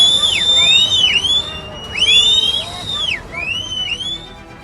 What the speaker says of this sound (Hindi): तब ये सीटियां कैसे वार्निंग सिस्टम की भूमिका निभाती हैं?